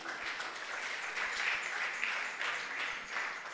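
Church congregation applauding together at a worship service, a steady wash of many hands clapping that swells slightly and holds for several seconds with no talk over it.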